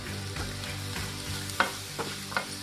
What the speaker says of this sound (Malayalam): ഒന്ന് വാടി വരുന്ന പോലെ വഴറ്റി കൊടുക്കണം